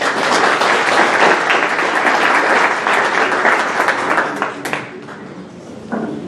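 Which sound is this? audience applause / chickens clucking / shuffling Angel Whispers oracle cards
audience applause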